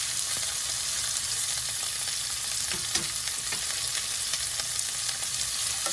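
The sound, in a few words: shrimp and green beans frying in a pan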